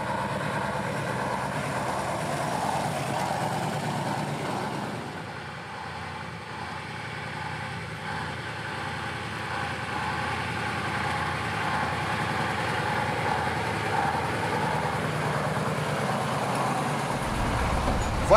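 A KrAZ-256B1 dump truck is on the move. Its engine keeps up a steady, heavy rumbling drone for the whole stretch, with no breaks and no voices.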